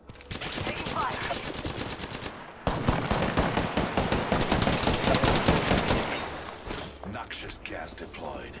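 Rapid automatic gunfire in Apex Legends, dense loud bursts of machine-gun shots rattling in quick succession close by, easing toward the end, with a voice speaking over the shooting.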